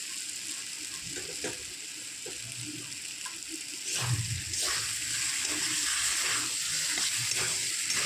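Potatoes fry with spices in a pan for a Bengali egg and potato kosha, a steady close hiss that grows louder partway through, with occasional stirring scrapes.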